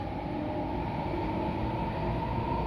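Hong Kong train between Asia World Expo and the airport, a steady low rumble and rolling hum heard from inside the carriage, continuous and even, with no voices.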